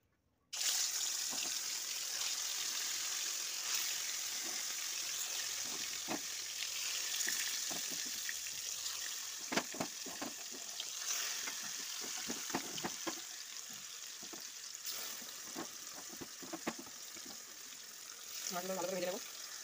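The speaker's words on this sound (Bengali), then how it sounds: "মাছগুলো ভালো করে ভেজে নেবো" Rohu fish pieces frying in hot oil, a close, continuous sizzle that starts suddenly and keeps up for nearly twenty seconds, dotted with sharp crackles and pops.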